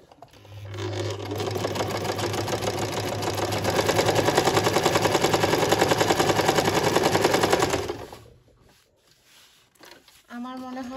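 A Singer SM024 sewing machine stitches fabric on a pair of trousers, running as a loud, steady, rapid mechanical whirr for about seven seconds before stopping abruptly, followed by brief faint handling sounds.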